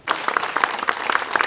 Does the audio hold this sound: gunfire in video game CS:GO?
no